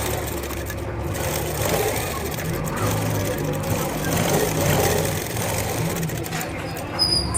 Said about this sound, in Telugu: ఇప్పుడు దీన్ని ఇలా ఓపెన్ చేసేసుకొని వేస్టేజ్ మీద కుట్టు పడేటట్టు టాప్ స్టిచ్ ఇచ్చుకోండి